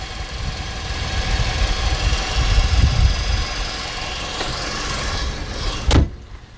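Inside the open engine bay of a 2021 Nissan Rogue SV Premium, the engine idles with a steady, even hum, and a sharp click or thunk lands near the end.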